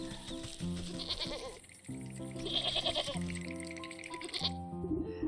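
Sheep bleating in the video game Wytchwood, several loud, close bleats in quick succession over a steady layered game music bed, with no talk.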